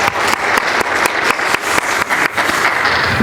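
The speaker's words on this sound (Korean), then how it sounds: "우리 마음을 다해서 우리 다 같이 박수 환영합니다." Applause from a church congregation at a Sunday worship service, loud and close, with a burst of many hands and distinct sharp claps standing out in an uneven rhythm for about three seconds.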